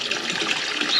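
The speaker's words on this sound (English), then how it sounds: "Next up, we need to turn this water trough on." Water pours steadily into a farm water trough once it is turned on, a continuous hissing gush heard up close with no pauses.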